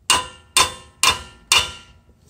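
A hammer taps an alternator bushing back into place on a 1991 Chevy truck, four sharp metallic strikes about half a second apart with ringing decay, close and loud with no talk.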